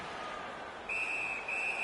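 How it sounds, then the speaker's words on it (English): A referee's whistle in a PS4 hockey video game sounds as a sharp, steady high tone, blown in two close bursts near the end over a soft arena hiss. "Puck covered, whistle blown."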